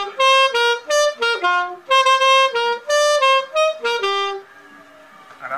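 Alto saxophone plays a merengue melody, bright, loud, close notes in short rhythmic phrases with brief gaps, ending on a held tone that fades.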